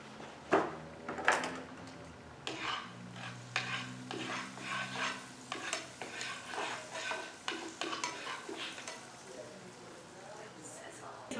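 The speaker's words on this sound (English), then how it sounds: "So a good way to keep your eggs from sticking to the bottom of the pan would be to put some butter in there" Butter melting in a frying pan on a home stove for eggs, a faint soft sizzle with scattered utensil scrapes and clinks, under a person talking.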